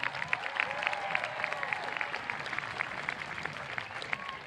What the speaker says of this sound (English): can we just have a round of applause for them?